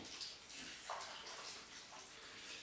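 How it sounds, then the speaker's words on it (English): Freshly boiled water is poured from a kettle into a venison casserole dish over tomatoes and vegetables, a soft, faint continuous splashing and trickling heard alone. "I've boiled the kettle, so a little bit of boiling water."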